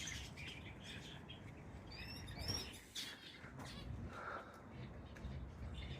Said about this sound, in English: Finches.